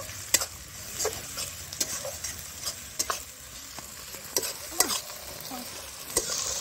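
Ginger paste stirred into a frying pot of garlic and oil for a red chicken curry with new potatoes, a steady sizzle broken by sharp, regular spoon scrapes against the pot, close and clear with no talk.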